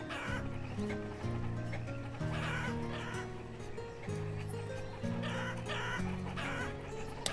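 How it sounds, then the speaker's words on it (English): Chickens clucking in the colony-building game Banished, a steady stream of repeated nasal clucks and calls close by, layered over a looping musical backdrop with no speech. "Those birds are annoying."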